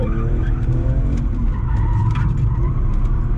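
Tires spin and skid as a car drifts in first gear, producing a loud, continuous rough roar of engine and rubber scrubbing with no gaps throughout.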